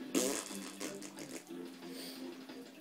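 A person's voice imitates a fart with one short buzzy burst near the start, followed by softer, noisy, lower-level sound.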